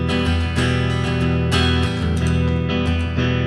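Guitar plays a quick run in the Phrygian mode with a flamenco flavour, bright plucked notes ringing over a sustained low root, loud and close, with no voices.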